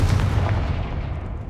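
Confringo spell blast in Hogwarts Legacy, a single loud booming burst with a deep low-end rumble that decays over about a second and a half.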